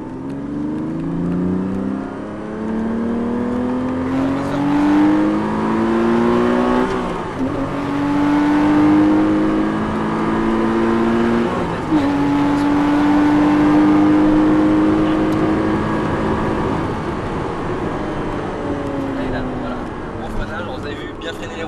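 A rally car brakes hard into a hairpin, shifts down to second and accelerates out, its engine rising in pitch through repeated revving sweeps, loud and close from inside the cabin, while a driver talks over it throughout.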